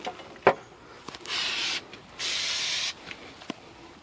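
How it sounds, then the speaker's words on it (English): Two long, loud hissing bursts of brake cleaner spray on the rear brakes of a 2003 Pontiac Sunfire, each about half a second to a second, with a few light clicks and taps around them. "we need to like clean this using a brake cleaner"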